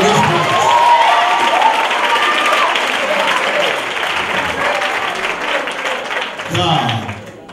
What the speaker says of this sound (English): Now clap like he's able in this place.